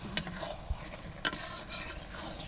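Bottle gourd and red lentil curry being stirred in a pan: faint soft scrapes and a couple of sharp utensil clicks over a low sizzle, no voices.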